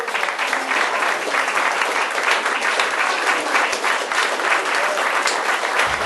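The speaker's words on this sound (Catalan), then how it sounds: "Un aplaudiment per a ell." An audience applauds a guest, a public figure, during a talk show, with dense, steady clapping that is loud and close and continues unbroken for about six seconds with no talking.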